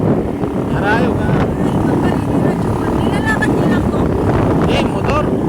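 A boat motor runs steadily and loud through wind buffeting on the microphone, a continuous low drone out on the water with some voices faintly mixed in.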